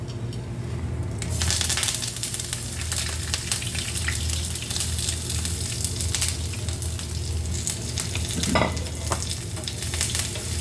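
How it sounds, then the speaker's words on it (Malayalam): Coconut oil sizzles and spits loudly in a pan as fenugreek, garlic, ginger and curry leaves are stirred for a Kerala fish curry, with scraping and crackling bursts throughout. "ഉലുവ പൊട്ടിക്കഴിയുമ്പോൾ വെളുത്തുള്ളി, ഇഞ്ചി, കറിവേപ്പില ഇടുന്നു"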